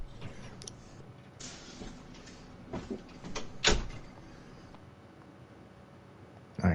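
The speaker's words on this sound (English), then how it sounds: "I heard a door." A door opens or closes somewhere off-mic during a podcast recording, a few soft creaks and a sharper clunk near the middle, with a final knock at the end, all faint against room noise.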